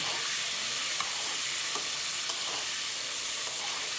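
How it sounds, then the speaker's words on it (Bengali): Salt and turmeric stirred into a potato curry frying in a pan, giving a steady close sizzle with a few faint spoon taps and scrapes, no voices. "এবার ভালো করে নাড়িয়ে চাড়িয়ে নেব।"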